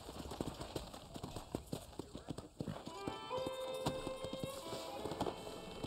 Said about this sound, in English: ride your horse to the hitching post,